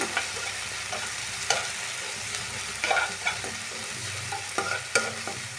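Onion, ginger garlic paste and green chillies fry in oil on low heat for a chicken gravy, with a steady sizzle under occasional scraping stirs of a spoon across the pan.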